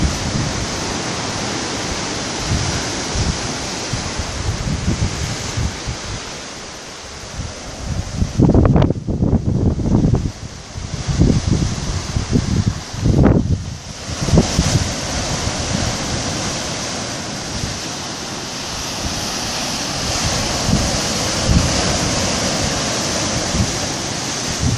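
Ocean surf and wind on a Réunion Island coastline at the end of a concrete path, a steady wash of breaking waves with gusts buffeting the microphone, swelling into louder crashes midway before settling back to a constant roar.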